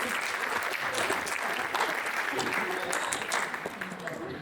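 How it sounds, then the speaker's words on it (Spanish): Sustained applause from an audience at a youth congress environmental talk, dense and even throughout, fading slightly at the end. "un aplauso para ellos"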